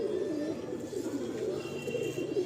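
A breeding pigeon from a home loft coos close by in a soft repeated rolling call, steady and alone with a faint room background.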